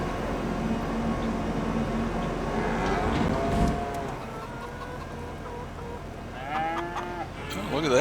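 Cows moo in Farming Simulator 25 over a dense farmyard bed, with drawn-out lowing calls near the middle and end and faint chicken clucks in the mix.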